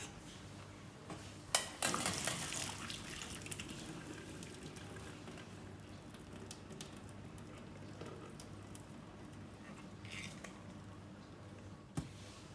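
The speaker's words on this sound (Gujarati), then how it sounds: "આ કારેલાનું બધું પાણી કાઢી નાખવાનું." Water is drained off boiled bitter gourds (karela) in a home kitchen. A short splash near the start settles into a faint, soft trickle that runs quietly to the end.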